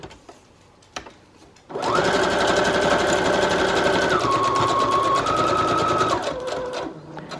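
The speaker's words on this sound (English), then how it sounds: "we're just simply going to go ahead and sew this onto the paper here" A sewing machine runs a single regular stitch through fabric onto paper, starting after a couple of soft clicks and then whirring loudly and steadily for several seconds before slowing near the end.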